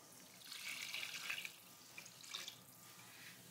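Beef or mushroom broth pours in a steady splashing stream into a pan on the stove for about a second and a half, then a second, shorter gush follows, fairly faint.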